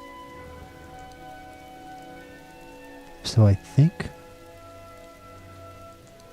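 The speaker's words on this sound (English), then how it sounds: "It's a rainy day." Rain falls in the video game Skyrim as a faint, steady patter under a low hum, and someone speaks briefly in the middle.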